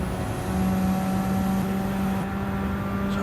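A racing car engine drones steadily through a lap of Circuit de Sainte-Croix in a racing video game, a continuous loud hum with sustained tonal whine and little variation in pitch.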